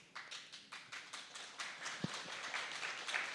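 Scattered, fairly faint clapping from a small audience at the start of a talk, with individual hand claps audible in a loose, uneven rhythm that continues throughout.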